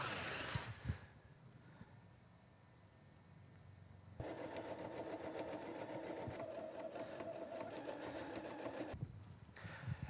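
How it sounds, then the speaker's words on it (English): A sewing machine stitches quilting lines on a quilt, starting with a brief whir, then running in a fast steady rattling hum for several seconds before stopping, close and fairly quiet. "let's stitch lines in this direction"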